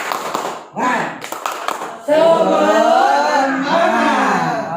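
A group in a class session does the rhythmic 'tepuk semangat' clapping chant. A quick run of sharp claps opens the clip, then a voice carries on speaking and chanting.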